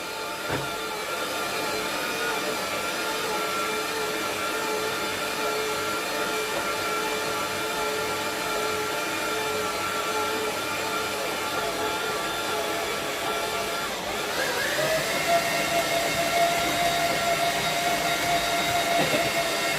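Stand mixer kneading dough as orange blossom water is worked in, a steady loud motor whir running throughout that rises in pitch near the end.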